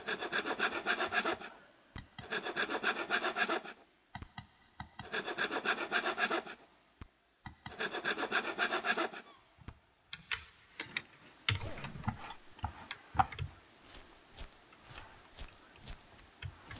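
A hand saw cuts wood into planks in the survival game The Seekers: Survival, with four rhythmic bursts of rasping back-and-forth strokes, followed by scattered knocks and clatter.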